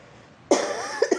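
A single harsh cough bursts out after a quiet moment, followed by a couple of short raspy coughs close to the microphone.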